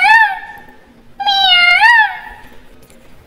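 A person imitates a cat with two drawn-out, whiny meows, separated by a brief pause, close and clear.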